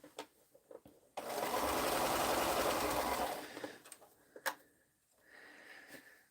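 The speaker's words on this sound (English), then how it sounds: "Let's get over here for sewing." A sewing machine stitches a curved quilt block during a quilting sewalong, running in one steady burst of about two seconds, loud and close, then stopping and leaving a few light handling clicks and faint room noise.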